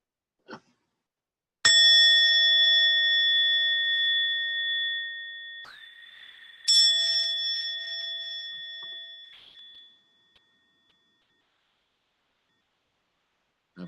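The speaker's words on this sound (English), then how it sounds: "I have a lot of gratitude for the ringing of that bell there." A single bell is struck twice, each strike ringing with a clear sustained tone that slowly fades over several seconds, near and alone in an otherwise quiet room.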